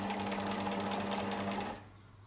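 A sewing machine stitching over elastic on a two-layer fabric face mask, a close, steady fast whirring hum that stops abruptly near the end, leaving quiet room tone.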